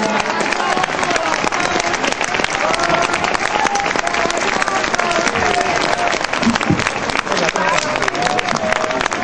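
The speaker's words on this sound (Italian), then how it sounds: "Invito a un applauso a Teresa Desio" An audience at a folk concert breaks into steady, loud applause for a singer, a dense wash of clapping with crowd murmur running throughout.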